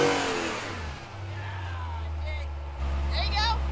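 A Jeep's engine revs on a rocky trail in Carnage Canyon, Colorado, a low droning roar that dips and then surges louder near the end while the tires spin.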